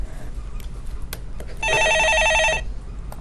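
A telephone rings once with a bright electronic trill lasting about a second, loud and close, in a quiet room during a phone-in stock market show.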